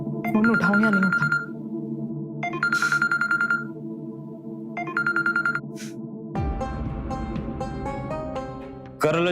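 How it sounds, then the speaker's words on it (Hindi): A mobile phone ringtone plays as a repeating melodic tone in three bursts separated by short gaps, then shifts into a fuller, louder musical passage, ringing close and clear. "फोन उठाऊं या नहीं उठाऊं?"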